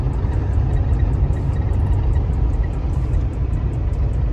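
A 1986 Oldsmobile Cutlass Supreme Brougham G-body cruising through a neighborhood, a steady low engine rumble heard close from inside the car, even and continuous without speech.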